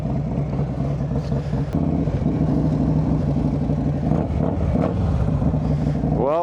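A Harley-Davidson motorcycle engine idles and revs with a steady, loud, close rumble that pulses throughout, swelling slightly near the end.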